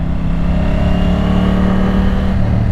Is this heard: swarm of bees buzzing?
no